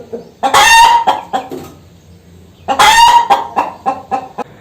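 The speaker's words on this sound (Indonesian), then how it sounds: "ayam betina itu kalau dia mau bertelur atau sebelum atau sesudah bertelur, ayam betina itu selalu berkokok" Hen clucking loudly in two close bursts around laying an egg, each a run of rapid harsh squawking calls separated by a quiet pause, with no voices present.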